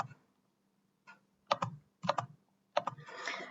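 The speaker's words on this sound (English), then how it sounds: "So typing the calculations for 2007" Quiet bursts of typing on a computer keyboard, made of small clusters of crisp key clicks separated by brief pauses and ending in a denser flurry of keystrokes.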